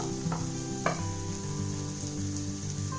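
Paneer korma masala filling sautés in oil in a pan, giving a steady close sizzle broken by a couple of sharp stirring scrapes.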